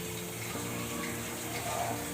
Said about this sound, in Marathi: हे आता उकळून घेतलं आहे, आता हे गाळून घेतो